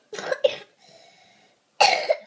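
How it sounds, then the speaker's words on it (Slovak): A child coughs in two quick close bursts, goes quiet with a faint hum, then gives one more loud cough, all close to the microphone. "kašleš z toho"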